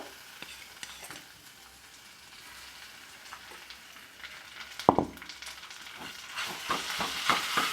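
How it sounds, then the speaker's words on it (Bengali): Boiled eggplant being mashed and stirred into reddish fried onions in a pan, with a quiet sizzle that grows busier and louder toward the end, marked by several sharp spoon scrapes. "বেগুনটা আমি পেঁয়াজের সঙ্গে ভালোভাবে মিক্স করে নিচ্ছি"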